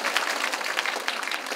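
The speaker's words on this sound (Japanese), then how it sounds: "拍手どうぞ" Applause from the audience at a Japanese TV drama premiere screening event, a brief burst of many hands clapping at moderate loudness, dense and steady with no voices on top.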